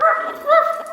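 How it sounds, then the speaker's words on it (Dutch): A dog gives two quick, close yelping barks within about a second, sounding loud and near with no other sounds around it. "Ga weg, dom hond."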